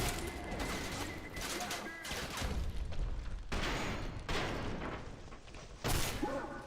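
In Trepang2, a gun fires repeatedly in loud, close bursts of shots, several distinct volleys spread through the clip against busy combat noise.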